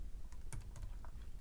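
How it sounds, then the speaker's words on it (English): Computer keyboard keys tapped to type a file name in a terminal, a short burst of quick, light, irregular clicks close by. "you can go back to your terminal and you just simply have to type the name of the file"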